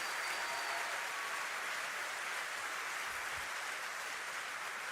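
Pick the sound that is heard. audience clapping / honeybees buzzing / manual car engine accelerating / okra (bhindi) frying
audience clapping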